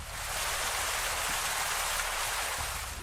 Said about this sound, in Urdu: جھرنوں کی آواز